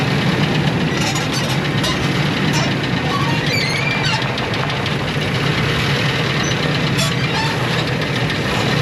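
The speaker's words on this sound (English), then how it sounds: "clearly we have some kind of a engine running problem" A Ford F150 with the 4.6 engine idles roughly with an engine-running problem inside a shop, giving a continuous loud mechanical rumble with uneven ticking and clatter throughout.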